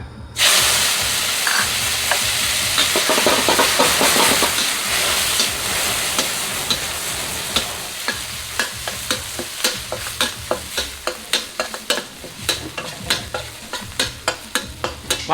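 Oil hisses and sizzles steadily in a hot wok stir-frying Korat noodles with chili and garlic, with sharp scraping clacks of a spatula stirring in a quickening rhythm toward the end.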